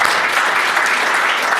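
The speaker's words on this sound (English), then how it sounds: "give a big round of applause for the panel" A live audience bursts into loud, dense applause for a panel, the clapping continuous and evenly sustained across the short moment.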